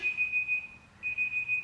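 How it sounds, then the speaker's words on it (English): A workout interval timer alarm sounds during a home core exercise session, with a clear, high electronic beep repeating in quick bursts, pausing briefly, then resuming at moderate volume over a faint background hum. "my timer's going off"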